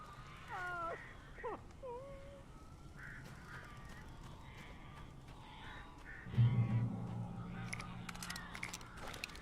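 Crows caw with harsh repeated calls in the opening seconds inside a game cabin in Alan Wake Remastered, set against a low ambient drone, then fade as a deeper rumble and scattered clicks take over.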